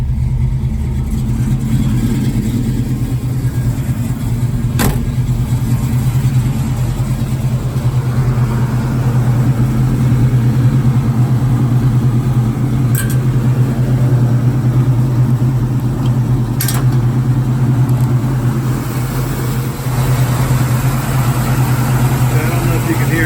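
A 1966 Ford Mustang with a 289 V8 idles after a cold start, a loud, steady low rumble that shakes and runs unevenly, with a few sharp clicks on top.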